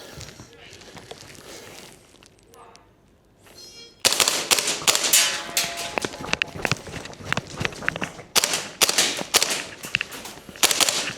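A WellPro PPK-20 gas blowback airsoft rifle, its magazine running low on gas, fires a quick irregular string of sharp cracks and mechanical clacks. A brief quiet spell comes first.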